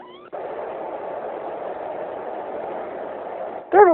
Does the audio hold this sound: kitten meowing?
yes